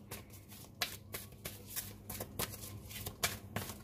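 Oracle cards being shuffled and drawn by hand, a close run of soft riffling flutters and sharp papery slaps in an irregular rhythm, with no talk.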